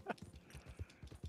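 Horse hooves clip-clopping in Red Dead Redemption 2, a quick, faint run of soft rhythmic thuds as a horse moves along close by.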